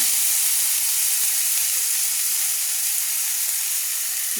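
Mung dal stirred in a hot pan gives a steady, loud sizzle and hiss throughout, with faint scraping ticks from the spoon underneath.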